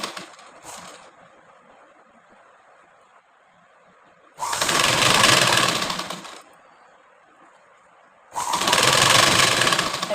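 Sewing machine stitching blouse fabric in two loud, steady bursts of rapid whirring, each about two seconds long, separated by quiet pauses with faint handling noise.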